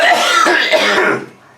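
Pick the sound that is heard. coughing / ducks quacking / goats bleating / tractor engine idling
coughing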